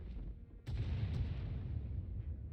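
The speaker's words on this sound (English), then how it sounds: "Sounds like the bombing's getting closer." Bombing explosions in a Star Wars video game: a sharp blast hits after a low rumbling bed, followed by a second fainter crack and a sustained heavy booming roar.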